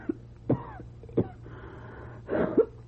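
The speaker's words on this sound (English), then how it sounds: "That cough really is bad." Several harsh, wheezy coughs come in separate bursts with short pauses between them, close and fairly loud over a low steady hum.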